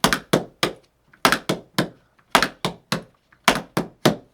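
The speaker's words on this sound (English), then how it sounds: "So you'll hear my left step come in a little too soon." Tap dance cramp rolls tapped on a hard floor, with the left step landing slightly early: crisp, close heel and toe strikes in repeated groups of three or four, separated by short pauses, with no talking.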